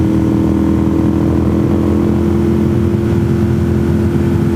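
Motorcycle engine running steadily on leaf-strewn back roads in autumn, a loud continuous drone with a low hum throughout and no break.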